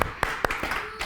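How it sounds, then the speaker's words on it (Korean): A few sharp hand claps for a child named Seonmin at a Sunday church service, sparse and uneven, close by in a quiet room. "우리 선민한테 박수 해주자."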